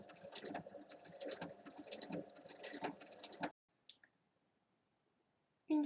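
A sewing machine stitches a bag strap with a fast, rattling run of needle clicks that stops abruptly, followed by a brief near-silence and a couple of soft knocks.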